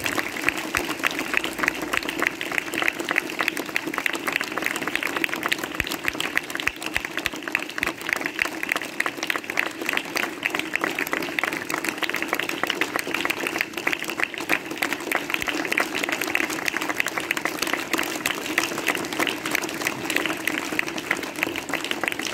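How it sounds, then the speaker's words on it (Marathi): A school audience at a Yashwantnagar high school felicitation event claps for guest speaker Ankur Yadav, a dense, steady roar of hands that carries on without a break for over twenty seconds, with no one talking. "टाळ्या जरा जोरात वाजू दे"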